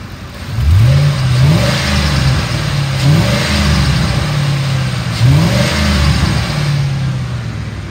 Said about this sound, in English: I'm gonna rev it up so you can hear the engine.